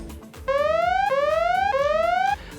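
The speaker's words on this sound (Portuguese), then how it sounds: "o alarde que o Avast fazia quando ele encontrava um malware" Avast antivirus malware alert siren on a Windows 98 computer: three loud rising electronic sweeps in quick succession, each climbing in pitch and then snapping back, sounding close and alone.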